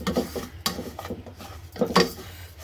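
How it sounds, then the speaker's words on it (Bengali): Broken wheat (dalia) is dry roasted in a pan, with a few short scraping and rubbing strokes of a spatula stirring the grains, fairly close and quiet. "আগে ডালিয়াটাকে একটু ড্রাই রোস্ট করে রাখছি"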